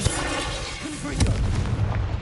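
Confringo fire spell in Hogwarts Legacy on hard mode, a booming blast with a bright crackling burst in the middle over rumbling combat noise, with a voice briefly speaking.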